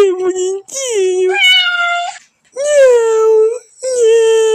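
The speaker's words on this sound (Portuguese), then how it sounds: "Oh, que bonitinho esse gatinho, viu?" A kitten in the Mimitos 2 game meows in a run of high, drawn-out, whiny cries with short pauses between them, loud and close, alone without talk.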